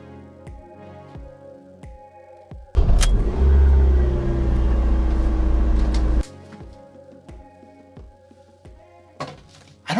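A car engine roars loudly for about three seconds in the middle, a sustained rev with deep rumble, preceded and followed by quieter background music and thumps.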